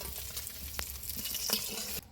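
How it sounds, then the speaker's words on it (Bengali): Fish fries in oil with a quiet, close, crackly sizzle and light spatter, lasting only a couple of seconds before cutting off abruptly. "এইভাবে সুন্দরভাবে এপিট ওপিট করে সুন্দর করে ভেজে নিব"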